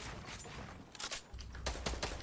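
Rapid, uneven bursts of gunfire in an arena shooter video game, clattering at a moderate distance and building into denser volleys toward the end, with no talk over them.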